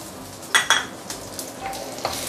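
Garlic dropped into a pan of ginger frying in oil, with two sharp clattering bursts as it lands, followed by a soft steady sizzle and a few light scrapes of a utensil.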